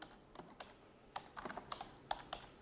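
Keys clack on a computer keyboard while typing in Microsoft Word 2019, a loose run of close, crisp keystrokes with short pauses and small bursts, no voices.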